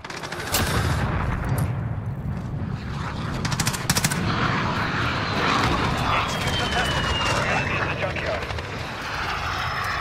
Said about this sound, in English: Got the VTOL on station.